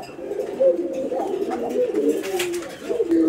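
Pigeons coo steadily in a loft, a male bird among them, with layered throaty calls overlapping close by and continuing throughout.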